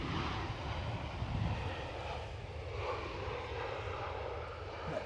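An EasyJet passenger jet, registered in Switzerland, rumbles at Edinburgh airport in the evening with a broad, steady engine roar that stays loud and close throughout and has no talk over it.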